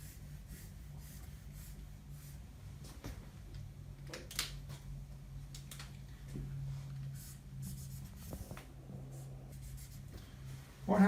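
A pen scratches out a diagram of fibers on a board or paper, soft strokes and taps near the mic over a low steady hum, with a breathy sniff or two and a sharper knock at the very end.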